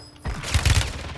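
Automatic gunfire in a Call of Duty multiplayer match, a short loud burst of rapid shots rattling close by for about a second, with no talk over it.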